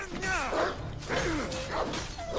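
Wolves in Assassin's Creed Odyssey let out a few close, rising and falling growls and whining snarls over roughly two seconds, mixed with brief whooshing combat sounds.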